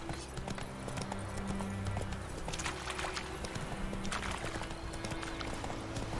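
Roach the horse clip-clopping steadily in The Witcher 3, hoofbeats continuous at close range over game ambience, with a brief whinny-like tone possible amid the steps.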